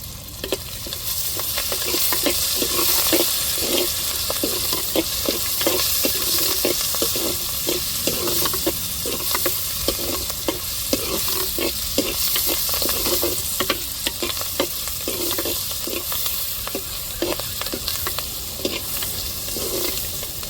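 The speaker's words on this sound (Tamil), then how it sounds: "தக்காளி வந்து வெங்காயத்தோடு சேர்ந்து நல்லா வதங்கட்டும்." Tomatoes and onions fry in a pan for country chicken sukka, a steady loud sizzle broken by repeated scraping stirs throughout, with no talking.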